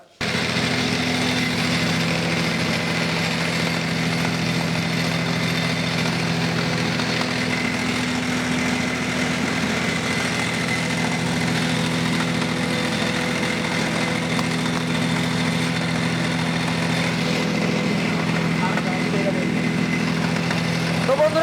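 A steel-body automatic rice mill with five screens hums steadily as it mills paddy into rice and bran, a loud, unbroken mechanical drone with a constant engine-like whine throughout.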